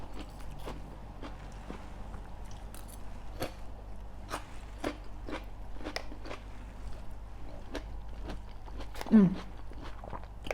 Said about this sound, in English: I know y'all hear that crunch.